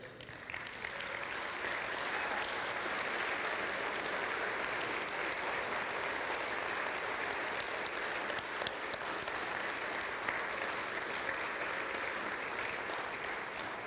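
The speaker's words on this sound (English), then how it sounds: "would you stand so we can honor you with applause?" An audience applauds to honor those who have served in government and the military, a long, even swell of clapping from many hands that holds steady before easing slightly at the end.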